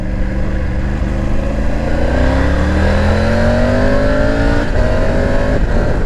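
Triumph Tiger 900 GT Pro motorcycle in A2 35 kW form, its engine accelerating with rising pitch through the gears and a quick shift near the end, loud and close with no talk.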